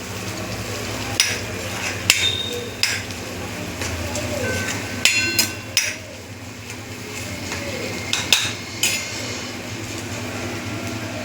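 Cauliflower-potato curry masala with Kashmiri red chilli and garam masala is sautéed and stirred in a pan. A steady low background carries sharp, scattered utensil clinks at irregular intervals.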